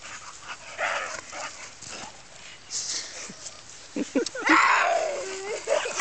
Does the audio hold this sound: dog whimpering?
yes